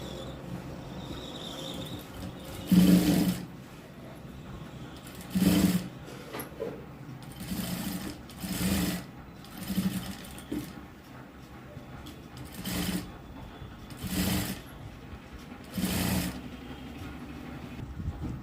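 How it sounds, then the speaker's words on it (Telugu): A sewing machine stitches a blouse neckline in short repeated bursts of whirring, each lasting under a second and separated by quiet pauses, heard fairly close. "పై వైపున మళ్ళీ ఒక కుట్టు అనేది వేసుకోవాలి"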